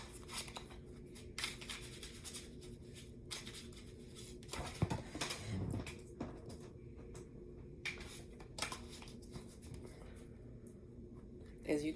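Tarot cards shuffled close by in quick, soft papery riffles and slides, coming in irregular bursts over a quiet room background.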